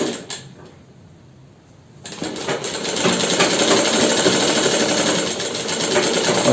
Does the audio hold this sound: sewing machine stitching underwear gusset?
yes